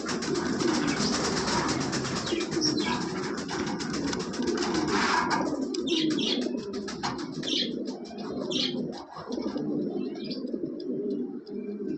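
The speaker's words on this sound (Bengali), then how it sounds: "অনেক বড় সাইজের কবুতর" Large pigeons coo softly and repeatedly amid chirps, with a steady rumbling background noise throughout.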